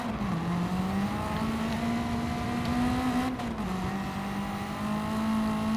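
A Mercedes-AMG GT R twin-turbo engine with a semi-racing silencer in Gran Turismo 7: a steady, droning engine note holds near constant pitch, dipping briefly once, with no talk over it.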